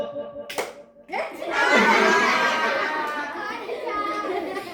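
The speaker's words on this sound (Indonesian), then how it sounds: "Tepuk semangat, tepuk orang tua, tepuk orang tua, tepuk." Elementary school children at a stop-bullying session do a clapping chant, with a few sharp claps followed by a loud burst of mixed clapping and young voices that gradually eases off.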